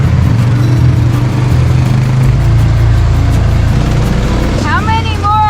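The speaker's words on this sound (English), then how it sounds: "All right, here comes a car." A car on a canyon road in Crazy Woman Canyon, a low engine rumble that swells and holds loud and close as it approaches, with a voice talking over it near the end.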